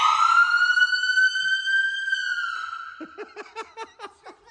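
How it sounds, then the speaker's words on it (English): A toy police car's siren wails in a long sustained rising-and-falling tone, then switches to a rapid pulsing yelp, fairly close and moderately loud. "And you go all the way, the sirens will come on."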